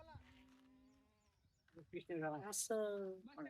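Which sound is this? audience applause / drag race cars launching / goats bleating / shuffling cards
goats bleating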